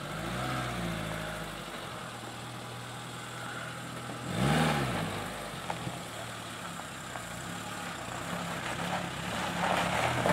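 A 4WD vehicle climbing a slope off-road, its engine idling and revving in a low, uneven drone with one brief rise in pitch midway, fairly faint, with scattered light knocks and no talk.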